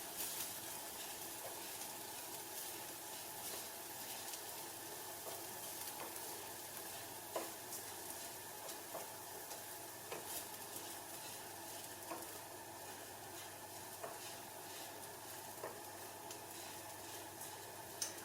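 Ingredients for Lebanese lentil soup sizzling in a pan while being stirred, a steady close crackling fry with occasional soft scrapes and clicks of the spoon, no talking.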